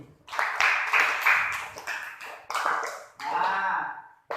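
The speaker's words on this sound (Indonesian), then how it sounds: "Tepuk tangan untuk yang pemberani ini." Classroom students give a brief round of clapping for a brave classmate, a few uneven bursts of hand claps with short pauses, fairly close and moderate in loudness.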